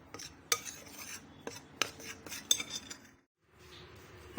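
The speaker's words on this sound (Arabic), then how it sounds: "بس هقلبهم بقى في بعض وهضيف عليهم السوائل اللي انا عملتها" Flour mixed with salt and baking soda is stirred in a bowl with a utensil, giving soft scraping and a few sharp clinks against the dish, close and fairly quiet, with a short pause near the end.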